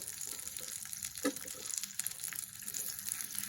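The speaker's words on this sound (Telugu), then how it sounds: "బాగా ఫ్రై చేసుకోండి" Oil sizzling and frying in a pan with mustard seeds, cumin, dried red chilies, garlic, curry leaves and coriander for a tomato rasam, a steady quiet crackle with a few louder pops, close by.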